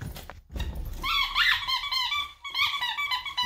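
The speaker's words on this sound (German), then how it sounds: "Nando und sein Quietschi." A Jack Russell terrier works a squeaky toy, producing a series of high, wavering squeaks in short clustered bursts, fairly close, with soft rustling between them.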